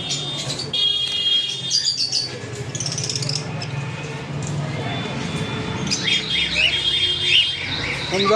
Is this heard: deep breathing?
no